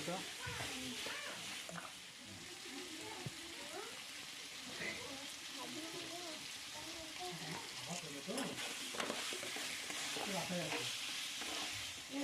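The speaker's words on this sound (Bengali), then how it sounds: "ভালো করে কষিয়ে নেওয়া হবে।" Chilli chicken sizzles and fries in a pan while being sautéed, with a steady hiss and continuous scraping of the spatula throughout, close and fairly loud.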